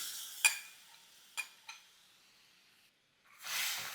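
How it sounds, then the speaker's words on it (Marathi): A yogurt and gram flour mixture goes into a hot tempering over low heat and is stirred: a few faint spoon clicks and scrapes, then a soft rising hiss of sizzling near the end. "गॅस कमी केला आहे यामध्ये घालूयात दही आणि बेसनाचं मिश्रण"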